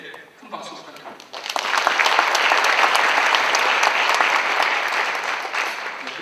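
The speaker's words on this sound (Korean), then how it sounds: "이 두 분께 큰 박수 부탁드립니다" Big round of applause from a meeting audience honoring two people, building quickly into sustained, dense clapping that holds steady before slowly thinning, with a voice speaking over it briefly.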